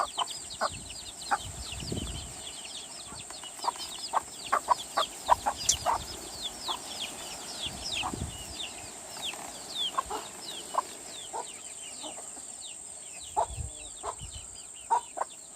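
A hen clucks repeatedly in short, scattered bursts nearby, over a quiet outdoor background with faint bird chirps.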